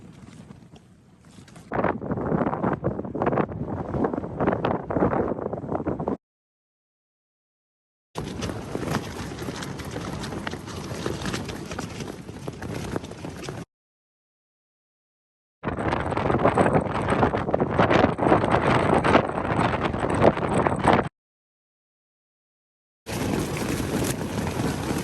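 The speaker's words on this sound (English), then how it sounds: "The wind has stepped up to a whole other level right now." Strong gusting wind roars against an MSR Hubba Hubba NX tent at a wild camp in Wales, in loud, sustained bursts broken by abrupt silent gaps, with no talking.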